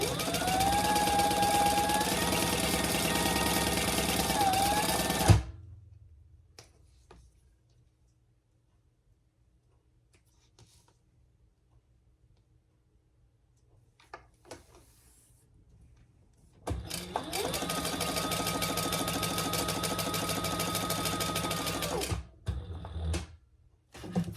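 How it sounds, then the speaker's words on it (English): A sewing machine stitches rows on an adjustable pet collar: a loud, fast whirring run for about five seconds, a long near-silent pause with faint handling sounds, then another sustained run near the end. "Then I will add more rows of stitching."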